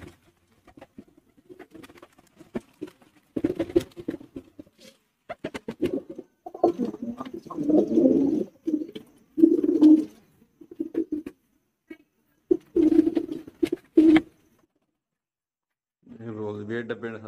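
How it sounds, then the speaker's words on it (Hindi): Low, soft pigeon coos repeat in short bursts amid fluttering and shuffling sounds, with a voice talking briefly at the end. "वो है डब्बे कबूतर"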